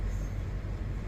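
A small train runs past close beside a highway, giving a steady, loud, low rumble with broad hiss throughout and no voices.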